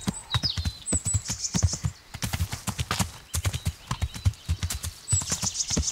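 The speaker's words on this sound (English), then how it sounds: "This horse can climb hills better than I can." A horse's hooves clip-clop steadily as it climbs a hill in Kingdom Come Deliverance, a fast rhythmic patter of close, loud hoofbeats with faint high tones drifting over the top and no talk.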